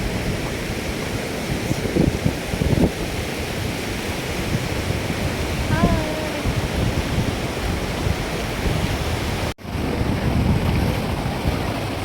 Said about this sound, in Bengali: এই হলো সমুদ্র